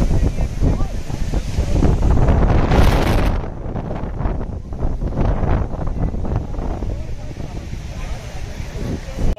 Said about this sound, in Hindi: बहुत ज्यादा तेज हवा आई है